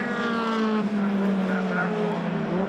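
Toyota MR2 race cars scream past side by side on the Brands Hatch circuit, engines holding a high droning whine with shifting pitch as they battle toward the line; a commentator talks over the engine noise.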